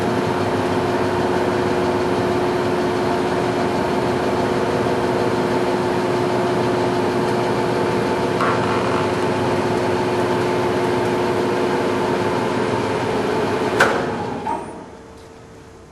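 A Common Rail TM 508 test bench runs its warm-up cycle with a steady machine hum and constant tonal whine, continuing evenly before stopping abruptly near the end and fading to quiet.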